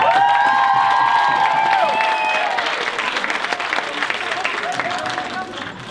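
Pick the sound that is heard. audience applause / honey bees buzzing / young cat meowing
audience applause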